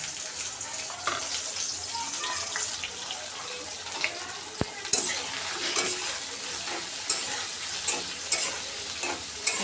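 Dried fish frying in oil in a pan, a close, continuous hiss and crackle with occasional sharp clicks of a utensil against the pan, and no talking.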